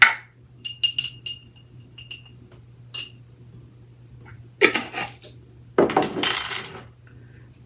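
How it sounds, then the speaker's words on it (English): Spoon stirring dry baking ingredients, including baking powder and salt, in a bowl for a cobbler: irregular bursts of scraping and light clinking against the bowl, close and fairly loud, separated by short quiet gaps. "we're going to give this a stir."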